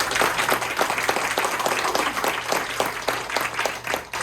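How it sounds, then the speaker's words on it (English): Audience at a meeting applauds two candidates, a steady burst of many hands clapping, fairly close and continuous, easing slightly toward the end. "let's give them a round of applause."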